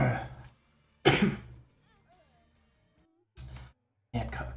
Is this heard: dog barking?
no